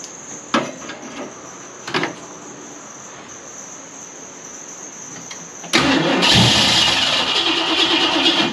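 1969 Fastback Mustang on a first start attempt in 30 years: a couple of brief clunks over a steady insect chirp, then a loud engine cranks continuously to the end.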